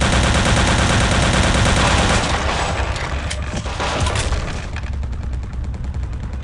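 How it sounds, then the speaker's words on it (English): Machine gun fire in the Return to Castle Wolfenstein game forms a dense, continuous rattle of rapid shots mixed with booming game noise, loud throughout and easing slightly toward the end, with no speech. "I hear a machine gun. Man, that sounds so awesome in the distance."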